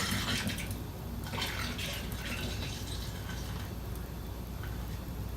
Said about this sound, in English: we want to make this sort of a turbulent pour